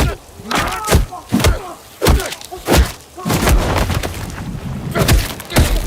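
Layered trailer-style percussion: big booming drum hits and thuds land in an irregular, building pattern, loud and close, with dense rumbling low end swelling toward a climax.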